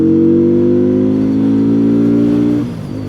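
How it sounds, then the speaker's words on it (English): Benda Chinchilla 450 motorcycle engine revving loud and close, a steady rich drone held for most of the moment before the revs drop off near the end, with no one talking. "Look, I just rev it up a little bit and it feels as if the bike listens to everything you"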